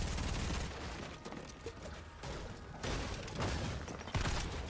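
Gunfire in the video game Fortnite, several sharp bursts of shots and rapid volleys, loud and close, separated by brief quieter gaps with no talking.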